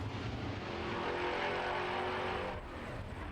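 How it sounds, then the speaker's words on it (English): A Formula 5000 race car drives loudly and steadily throughout, its engine note holding a sustained roar with a slight drop near the end, at a New Zealand circuit race in Taupo. "as we've heard Kenny throughout this series, he just loves driving this race car. He loves these Formula 5000s."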